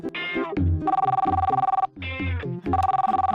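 An old-style telephone bell rings in two loud, close bursts of rapid rattling trills separated by a short pause, with no talking over it.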